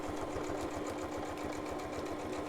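A home sewing machine runs continuously, its steady fast mechanical whirr and rhythmic needle chatter close and fairly loud throughout.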